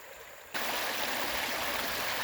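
A river stream flowing near two forks of a creek with stone dam sites, starting faint then abruptly becoming a loud, steady rushing of water with no talk.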